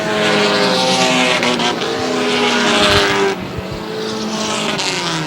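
Race cars roar around a short oval track in a late-laps battle for position, engines loud and continuous with a steady wash of noise and a drop in level partway through as cars pass.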